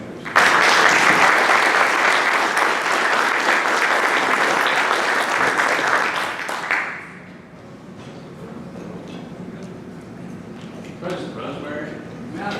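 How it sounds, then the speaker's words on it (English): A Rotary club audience applauds scholarship winners with loud, sustained clapping for about seven seconds before it abruptly stops, followed by quieter room noise and faint shuffling. "Let's have another round of applause for our winners."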